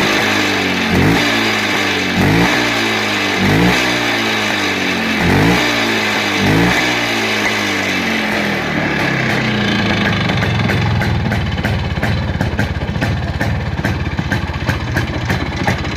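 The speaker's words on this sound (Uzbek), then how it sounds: "Mana gaz beraman, bir eshitib ko'rasiz motorlarni." Several motorcycle engines idle with a rhythmic, pulsing chug, then are revved up into a louder, rising roar that holds steady, close by.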